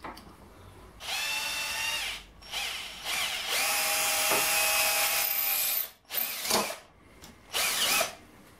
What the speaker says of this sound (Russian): Теперь в зажиме нужно просверлить отверстие.